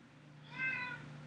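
A single short cat meow rises briefly over a quiet indoor room hum, close and fairly soft.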